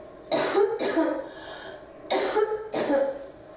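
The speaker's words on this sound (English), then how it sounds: "Give us a deep breath now. Hold there, hold that. And cough." Four harsh coughs in two close pairs, fairly near, with a quiet pause between the pairs and no talking.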